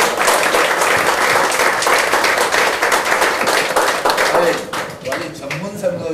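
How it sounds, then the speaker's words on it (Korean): Sustained audience applause at a Korean political party's regional convention in Daejeon, a dense steady clapping from a large crowd that thins out toward the end as a voice begins to come through. "네, 큰 박수 부탁드리겠습니다."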